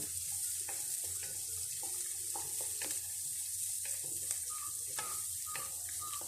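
Finely chopped onion frying in a pan for oats upma, a steady soft hiss with scattered light crackles and occasional scraping stirs, fairly quiet throughout with no voices.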